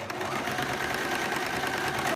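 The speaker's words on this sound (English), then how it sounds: "all we do is sew up to the seam, and then we pivot on the seam and work our way down the next side" Sewing machine topstitching a napkin around a mitred corner, a close, loud, continuous whirring run.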